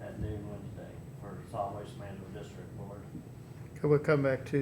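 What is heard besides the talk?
No everyday noises stand out.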